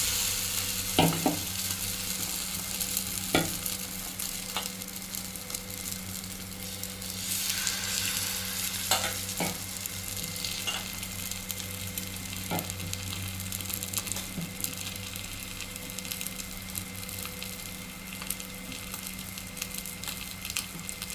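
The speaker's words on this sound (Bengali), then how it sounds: "মাছের একটা পিঠ আমি 15 মিনিট ধরে ভাজবো।" Bhetki fish fillets frying in oil in a pan, a steady sizzle running throughout with occasional sharp clicks and taps, close and even in level, with no voices.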